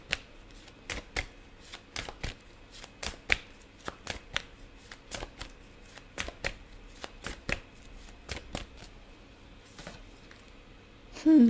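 Tarot cards are shuffled close by in a quiet room, giving a series of crisp, irregular riffles and papery snaps with short pauses between them.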